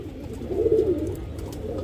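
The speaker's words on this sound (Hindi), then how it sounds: "ये देखो गाइस, बहुत ही शानदार कबूतर है।" A male pigeon with yellow eyes gives a soft, low coo near the middle, close by, over a steady background hum.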